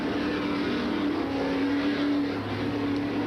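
Late model super stock race cars roar around a track in a steady, continuous engine drone, loud and close, with a sustained whining tone running throughout and no pause.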